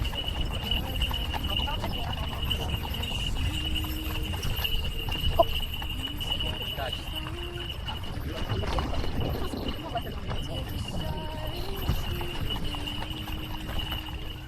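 Horses' hooves clip-clop steadily uphill on a mountain outing, a continuous close rhythm of hoof strikes over wind and ambient noise, with people talking in the background.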